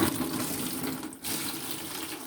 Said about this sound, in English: I'm just going to use this sponge to soak up all of this old water